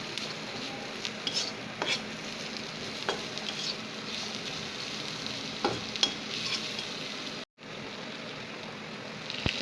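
Spices, including coriander powder, fry in a pan for a Tripuri fish roe dish, with a steady sizzling hiss and repeated scraping and clinking of a spoon against the pan. A brief dropout interrupts it near the end.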